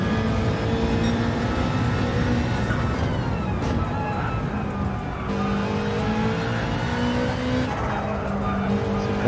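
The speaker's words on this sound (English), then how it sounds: "We're on board with Bucknessy in the Subaru WRX" Onboard engine of a Subaru WRX race car in a racing video game at Autopolis, a steady loud revving drone that rises and falls through gear shifts, with brief tyre squeal, heard alone.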